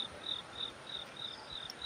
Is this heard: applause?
no